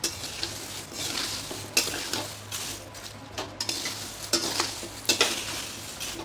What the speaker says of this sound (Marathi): आता मिरच्या भाजायच्या आपल्याला.